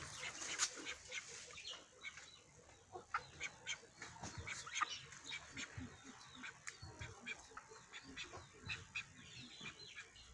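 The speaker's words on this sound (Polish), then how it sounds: "Tu są moje kaczki, które mam od tygodnia." Young ducks and pheasants kept together in a pen call in quiet, scattered bursts, with short honking and quacking notes repeating irregularly at moderate distance against a soft background.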